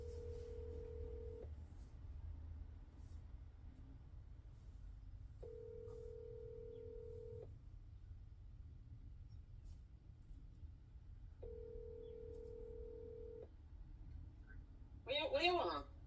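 A phone call placed on speakerphone rings out as three evenly spaced ringback tones over a steady low hum, ending in a short burst of sound as the line picks up.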